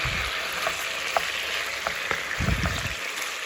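Food for Uzbek pilaf sizzles steadily as it roasts in a hot pan, a constant crackling hiss up close, with a couple of low thuds of stirring.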